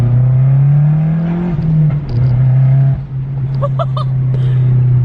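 A Mazdaspeed 6 fitted with a new downpipe pulls hard in second gear, its loud, close engine note rising steadily with turbo whistle and a few sharp backfire pops near the end.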